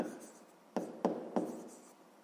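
A pen writes the first step of a fifth-grade math solution on paper, with three short distinct strokes over faint scratching, close and quiet in an otherwise still room.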